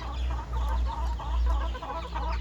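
A long-tailed rooster and hens cluck repeatedly in a rhythmic series, close by over a steady low hum, with no talk.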